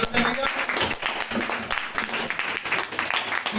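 An audience at a Republic Day celebration claps to welcome a speaker, a dense patter of applause from a crowd with voices mixed in.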